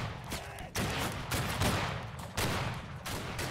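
Musket volleys in the Civil War video game Battle Cry of Freedom, loud ragged bursts of massed gunfire crackling in repeated waves over a continuous battle din.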